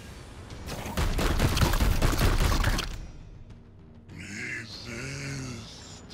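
Gunshots in Warhammer 40,000: Chaos Gate - Daemonhunters, a loud two-second burst of rapid automatic fire followed by quieter sounds and a deep, tonal grunting voice.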